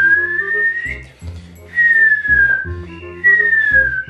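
A person whistles a repeated melodic phrase in three clear bursts, each sliding gently downward in pitch, with short pauses between them and no talking.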